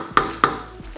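A spoon stirring laing, a Filipino dish, in a pan, giving two sharp scraping knocks against a soft sizzle of cooking.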